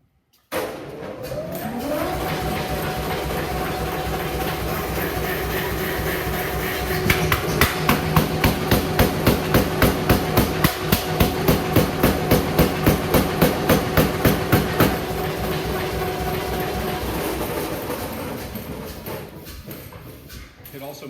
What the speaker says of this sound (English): This is a forging hammer built in